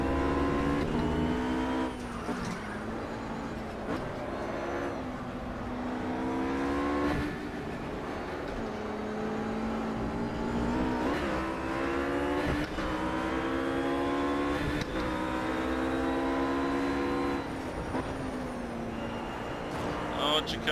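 A RUF GT3 race car in the Project Cars racing game screams around the Nürburgring, its engine revving up and down through repeated gear changes, loud and constant throughout while a person talks over it.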